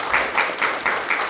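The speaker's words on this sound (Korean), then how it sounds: "우리 큰 박수로" A church congregation claps in a brief, rhythmic burst of applause, with evenly spaced claps close by.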